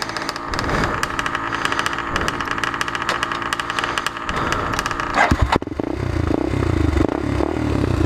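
Honda TRX400EX quad engine running close by, a steady clattering mid-pitched idle and rev with mechanical rattles, briefly disturbed near the end, no voices.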